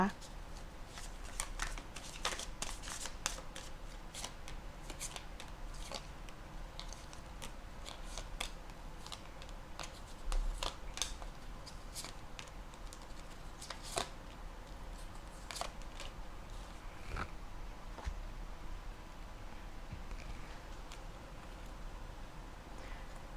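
Tarot cards shuffled and drawn during a tarot reading, giving repeated crisp card riffles and snaps through the clip beneath ongoing speech.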